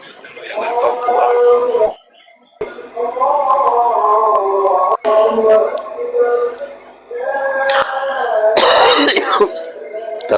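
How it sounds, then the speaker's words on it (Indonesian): A voice clears its throat and gives a few rough coughs in short bursts up close, with brief pauses between them. "Ternyata udah batuk-batuk begitu"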